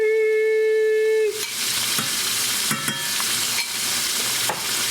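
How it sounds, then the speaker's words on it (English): After a steady electronic beep ends, a whisk scrapes and swishes rhythmically through gravy thickened with slurry in a pot, with repeated bursts of stirring up close and no talking. "We have to whisk this up."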